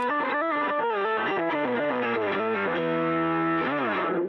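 A heavily distorted bass guitar tone from a pitch-shift pedal slides up and down in pitch, gritty and buzzing, with warbling shifted layers and no talking.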